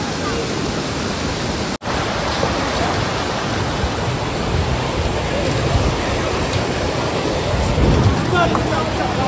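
Devkund waterfall roars nearby as a loud, steady rush of water. The sound is broad and unbroken except for a brief dropout early on.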